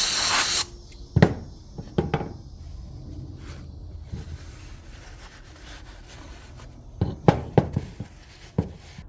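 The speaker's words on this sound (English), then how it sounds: "I'll give her a quick little spray" Cleaner sprayed onto a Corvette engine part with a big cam and idle issue, a short hissing spray burst at the start followed by scattered knocks and clunks of handling in a quiet garage.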